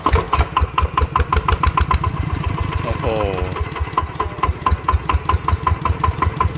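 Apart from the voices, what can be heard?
used motorcycle engine running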